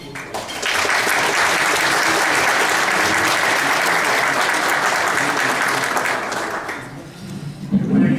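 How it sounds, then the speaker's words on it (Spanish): A warm round of applause from an audience at a gathering honoring a fiscal councillor, dense and steady, swelling in quickly, holding for several seconds, then tapering off. "te doy un caluroso aplauso."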